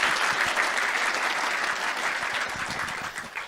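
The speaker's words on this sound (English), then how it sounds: "Can we get a round of applause for them for doing such a fantastic job?" An audience at a live debate event gives the security staff a round of applause, dense and loud throughout, easing slightly toward the end with no speech over it.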